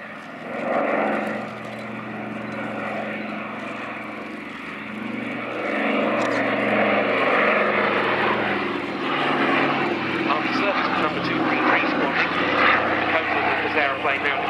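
Douglas Dakota propeller aircraft of the Battle of Britain Memorial Flight flying at the Duxford autumn airshow, a steady loud drone of piston engines and propellers rising and holding, with a commentator's voice over the public address.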